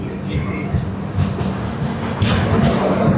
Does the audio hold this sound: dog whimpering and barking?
no